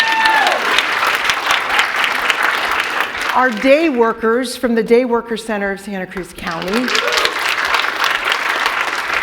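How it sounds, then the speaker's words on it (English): An audience at a community talk bursts into applause, a broad clapping crowd that swells at the start and end while someone speaks into a microphone over it in the middle. "Yeah, you can clap."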